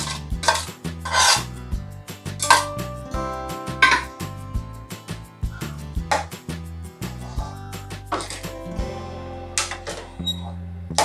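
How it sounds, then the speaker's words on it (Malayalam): A spoon scrapes and knocks against a pan while wheat halwa is stirred, with sharp intermittent clinks and scrapes in an irregular rhythm over a steady tonal hum, close and fairly loud. "ഇനി നമ്മളിതിനെ ഇങ്ങനെ ഇളക്കി കൊടുത്തുകൊണ്ടേയിരിക്കണം"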